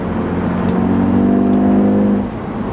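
A BMW F30 sedan drives through corners, its engine holding a steady loud hum that swells slightly mid-pass and then eases off, heard close from inside with no talk.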